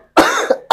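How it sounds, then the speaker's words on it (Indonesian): A man coughs twice up close and loud, a long harsh rasping cough followed by a short second burst. "Saya batuk dulu ya."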